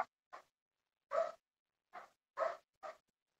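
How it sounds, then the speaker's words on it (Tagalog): A dog barking in a series of six short, sharp barks with uneven gaps, fairly faint and alone against near silence. "ingay naman ang aso"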